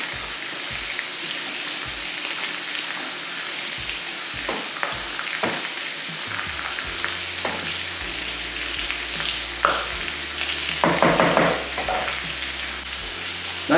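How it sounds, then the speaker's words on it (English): Bean sprouts and pak choy stir-frying in a curry, a steady crackling sizzle with scattered scrapes and stirs from a utensil, fairly close and continuous throughout, with no one talking. "You're just wilting down the pak choy"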